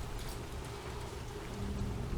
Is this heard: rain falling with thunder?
yes